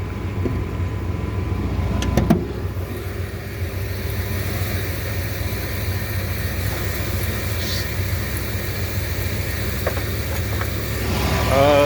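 A car engine idles steadily with the hood open, a smooth low hum holding through the whole stretch with a brief clatter early on and no talking.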